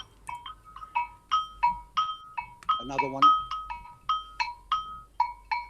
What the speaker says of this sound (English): That's the only 2 sounds you can produce out of the agogo.